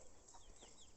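A young cockerel chick with the blue gene, heard as a couple of faint, brief high peeping chirps over a quiet farmyard background.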